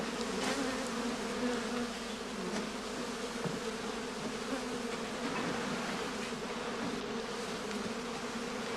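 Honeybees buzzing steadily around straw skep hives stacked close together on their sides, a dense continuous drone of many insects close by, with no voices.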